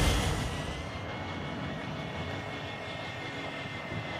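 A recon drone flying in a video game, a steady airborne engine drone with a continuous broadband hum and whine holding an even level throughout, heard alone without speech.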